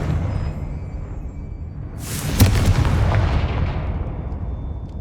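The Confringo fire spell in Hogwarts Legacy on PC erupts in a sudden loud booming explosion about two seconds in, followed by a rumbling decay that fades slowly.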